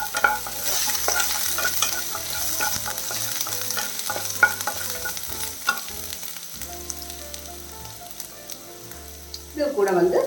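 Finely chopped ginger and garlic sizzle steadily in hot oil in a pan while being made into a tomato stew, with intermittent scraping and stirring of the spoon against the pan and a brief louder clatter at the end.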